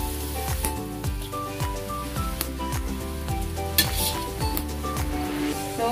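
Green vegetables for birthday pancit sizzle and crackle steadily in a hot pan, with repeated scraping and clinking of a utensil against the pan in an uneven rhythm, close and moderately loud, with no talking.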